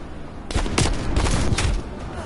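Gunfire in Call of Duty Cold War's gun game mode, a loud close burst of rapid shots lasting over a second amid game sounds.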